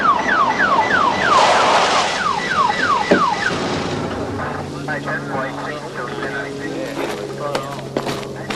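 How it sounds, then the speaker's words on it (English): An ambulance siren wails in a rapid, repeating up-and-down sweep, then gives way to rumbling traffic and jumbled voices as the scene continues. "We've got an ambulance on the way."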